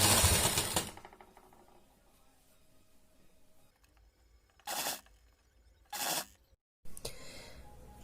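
An electric sewing machine stitching cotton fabric for a newborn baby cap runs in a loud burst at the start, then gives two short whirring bursts and a third after a brief silence, with quiet handling between.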